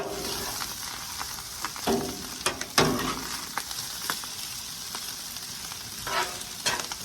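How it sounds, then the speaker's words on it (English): Steady sizzling of garlic fried rice on a Blackstone griddle set on high, with occasional scraping and stirring clatters cutting through the continuous crackle. "I've got the griddle on high, so things can actually start frying up."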